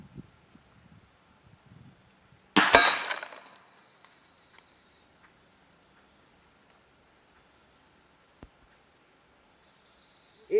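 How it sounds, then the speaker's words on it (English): A .357 slug fired from a Hatsan Bully air rifle strikes a steel target plate 100 yards off, giving one sharp distant clang that rings out briefly over quiet surroundings, followed later by a faint tick. "I heard it hit the plate."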